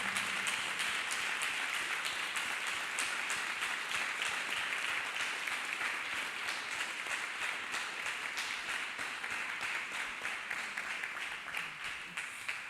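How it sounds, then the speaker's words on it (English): A church congregation claps hands in a steady, dense stretch of applause, fairly faint and continuous throughout. "Let's clap hands for Master Jesus Christ."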